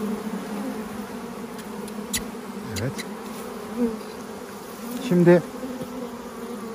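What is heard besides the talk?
honey bees buzzing around an opened hive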